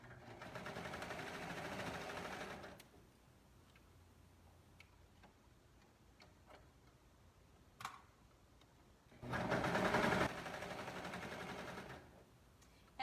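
A home sewing machine stitches clear elastic into a dress waist in two steady bursts of running, separated by a long quiet pause broken only by small clicks and handling sounds.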